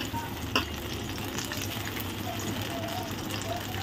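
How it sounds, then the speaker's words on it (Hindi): Chicken frying in hot oil, a constant bubbling sizzle with a single sharp clink early on, close and fairly loud, no talking. "जब तक इसी में हम बाकी का चिकन फ्राई कर लेते हैं"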